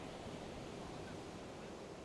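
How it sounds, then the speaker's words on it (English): Waves lap gently against a quiet pebble beach next to South Parade Pier in Portsmouth, a soft, continuous wash of surf at low level with no voices. "The waves lap gently against the shore."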